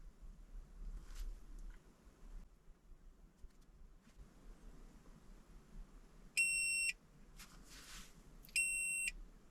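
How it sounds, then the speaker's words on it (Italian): A TopScan OBD2 car diagnostic scanner sounds two sharp electronic beeps after a firmware update, each about half a second long and a couple of seconds apart, clear over a quiet low room hum. "Sentite il beep?"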